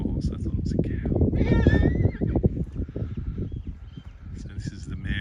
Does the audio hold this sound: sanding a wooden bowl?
no